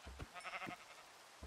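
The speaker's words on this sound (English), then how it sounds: "I think these sheep are slowing us down" Sheep in Minecraft bleating, a few short soft bleats close by with quiet ambient noise between them.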